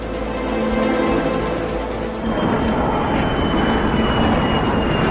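Inside an airplane accelerating upward during a parabolic flight, the jet engines give a loud, steady roar with a broad rushing wash that swells slightly midway and holds constant to the end.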